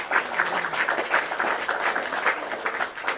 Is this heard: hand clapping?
yes